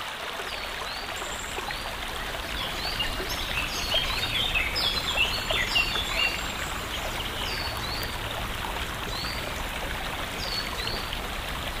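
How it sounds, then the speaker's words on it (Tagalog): A forest stream that has to be waded across rushes and trickles steadily nearby, with scattered bird chirps and calls drifting over the constant water noise. "Kailangan pala nating tumawid pa dito sa sapa na ito bago marating yung tutulungan ni Commander."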